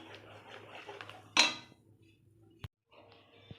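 Khoya stirred continuously in a pan over low heat for homemade pantua, with a soft scraping murmur and one sharp metallic clank of the spoon against the pan.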